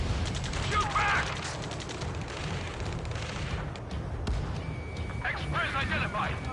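Gunfire rattles in a ground battle in Ace Combat 7, with repeated crackling shots and bursts over a steady rumble while urgent radio voices talk throughout.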